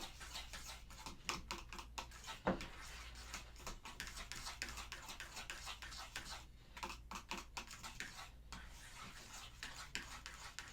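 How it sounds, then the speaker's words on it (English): A fork beats protein donut batter in a bowl, producing rapid, light clicking and tapping strokes in a steady close rhythm, fairly faint throughout with one sharper knock partway through. "I'm mixing mine with a fork"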